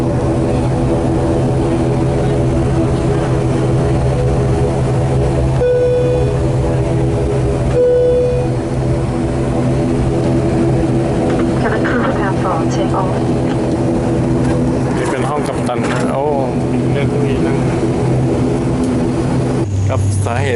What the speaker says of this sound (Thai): มาฟังเสียงเครื่องยนต์ใบพัดกันครับ